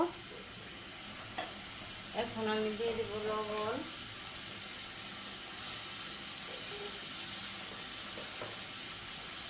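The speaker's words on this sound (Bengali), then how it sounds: "আমি তেলের মধ্যে শুধু তেলের মধ্যে মুরগিটা একটু ভাজা ভাজা করে নেব" Chicken pieces frying in oil in a home kitchen, a continuous bright sizzle with occasional stirring, a person speaking briefly over it.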